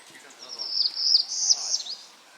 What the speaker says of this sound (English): Yeah, you can hear the birds.